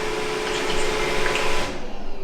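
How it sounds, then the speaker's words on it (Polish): A robot vacuum cleaner runs nearby with a steady whirring motor and brush hum, its tone fluctuating slightly before the high hiss drops away near the end as it slows; no talking. "dookoła wszystkie kąty, wszystko odkurzy. Odkurzanie teraz jest, nie?"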